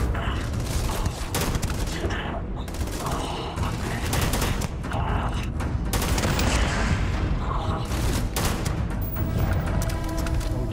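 Rapid gunfire bursts from the Starfield video game, dense and continuous bangs layered over music and game effects for the whole stretch, loud and close throughout.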